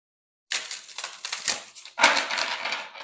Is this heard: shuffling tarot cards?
yes